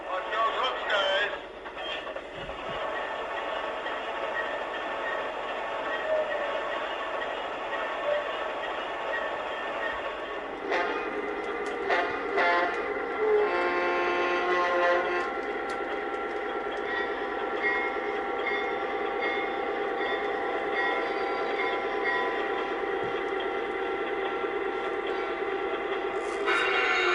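Lionel model train locomotives from the late 1930s and early 1940s run steadily on track with a sustained, close, whirring and humming drone, shifting tone partway through, and a voice talking faintly at times.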